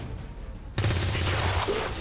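A single loud gunshot in the video game XCOM 2 erupts abruptly after a quiet lead-in, followed by a sustained rumbling tail of gunfire and impact noise.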